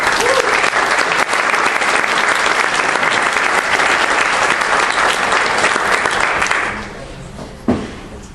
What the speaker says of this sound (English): we'll do one more round of applause for our National Merit Scholar